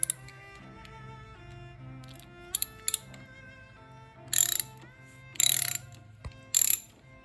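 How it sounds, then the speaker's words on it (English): Metal ratcheting and clicking on the distributor clamp of a 1971 VW Beetle engine as it is loosened, a few brief bursts of ratchet clicks and clanks over a steady low background, close by. "So I'm gonna loosen up the distributor."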